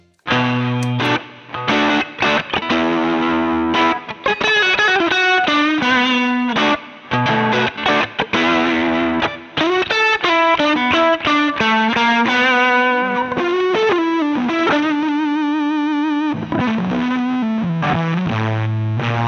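Electric guitar played through a Hamilton Effects Embers fuzz pedal with its Underdrive engaged, a continuous riff of distorted, gritty chords and single notes, loud and upfront with no talking.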